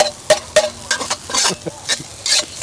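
Fried rice stir-fried in a very hot wok: quick, rhythmic scraping and tossing strokes over a steady sizzle, close and loud, with no talking.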